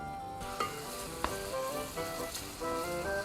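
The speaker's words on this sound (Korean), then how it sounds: "이 콩비지를 볶는 이유는 이제 콩의 풋내를 날려주기 위해서요." Soybean pulp (kongbiji) fries in a hot pan, giving off a continuous crackling sizzle with a few sharp pops as it is stirred, close and steady with no talking.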